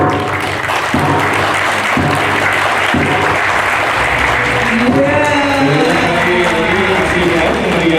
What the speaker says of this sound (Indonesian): Baru kita tepuk tangan sekali lagi.